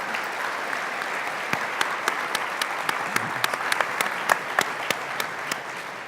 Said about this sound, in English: I'd love a big round of applause for our circular economy heroes